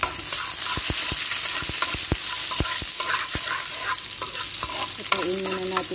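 Minced garlic fries in hot oil left over from cooking carrots and potatoes. It sizzles steadily and closely throughout, with a spoon clicking and scraping against the pan at intervals.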